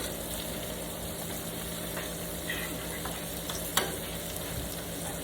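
Bacon fries in a pan while potato crisps are tossed, giving a steady, fairly soft sizzle throughout with a light clink of utensils partway through.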